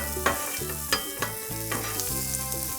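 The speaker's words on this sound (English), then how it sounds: "Gonna throw down some onions, some jalapenos, pepper, salt, and we're just gonna soften these a little bit" Onions and jalapenos seasoned with salt and pepper sizzle on a hot Blackstone griddle with a close, steady crackle. Several sharp spatula scrapes and taps cut through at roughly regular intervals.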